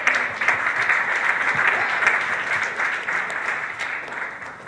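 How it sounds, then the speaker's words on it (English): An audience at a panel discussion applauds, a steady, moderately loud wash of clapping sustained throughout with no talking over it. "let's give another round of applause to the AFL-CIO."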